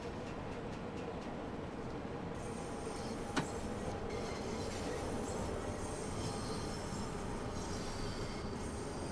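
Train braking to a stop in the Train Sim World 2 video game: a continuous rumble of rolling wheels with high squealing brake tones and a single sharp clunk partway through, moderately quiet and without speech.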